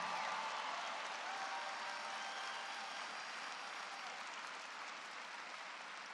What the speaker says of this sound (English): Give him applause, come on.